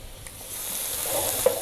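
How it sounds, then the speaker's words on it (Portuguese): Three cloves of chopped garlic sizzle in a spoonful of hot pork lard, with a steady, moderately loud crackle and a few stirring scrapes, one sharper clink near the end. "A banha aqueceu, eu vou colocar aqui 3 dentes de alho picado."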